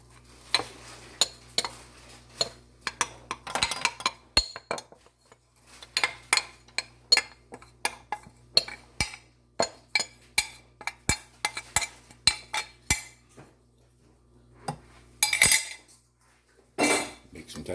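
A spoon scrapes and clinks steadily against a bowl as flour is mixed into pound cake batter. The close, regular strokes and taps repeat for many seconds with no talk.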